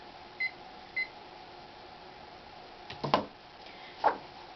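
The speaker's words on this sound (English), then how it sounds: "let me set my timer to make sure I don't go overboard." A timer being set gives two short electronic beeps in quick succession, followed a few seconds later by soft clicks or taps from handling the device, all fairly faint in a quiet room.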